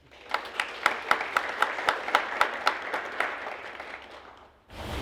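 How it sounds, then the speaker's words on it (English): An audience applauds at a university storytelling event, a burst of clapping that swells quickly, holds steady with sharp individual claps standing out, then fades away near the end. "So give yourself a round of applause."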